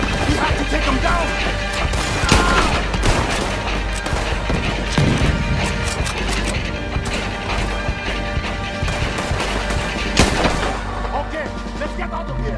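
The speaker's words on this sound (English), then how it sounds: "He's shooting!" Gunfire from a shooter in a tower in Red Dead Redemption 2, loud cracking shots and crashing impacts repeating over a constant din of battle, with voices shouting through parts of it.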